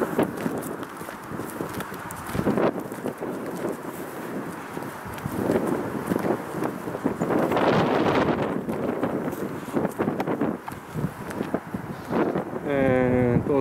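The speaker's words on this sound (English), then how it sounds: "quite windy." Steady wind gusts rush and buffet the microphone through a sunny noon walk on an open field with an Alaskan Malamute, with rustling and footsteps underneath and no talking.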